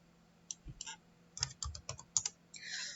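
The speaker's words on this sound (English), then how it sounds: "type in your dimensions for your tumbler" Typing dimensions on a computer keyboard in design software for a sublimation tumbler: a series of quick, crisp key clicks in uneven bursts, close and alone, ending in a brief rapid run of keystrokes.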